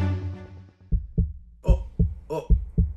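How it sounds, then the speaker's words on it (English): A heartbeat sound effect of deep, soft thumps in a steady paired rhythm, preceded by a fading tonal hum and standing alone without speech. "Oh, can you guys hear that? That's the sound of the heartbeat of the tropics"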